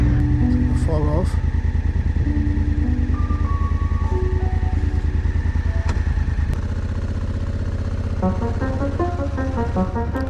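A motorcycle engine drones steadily and close while riding a snowy mountain track at high altitude, its rhythmic thrum continuing throughout, with a shift in engine note partway through and a voice speaking over it.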